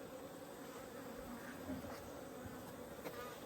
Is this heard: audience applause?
no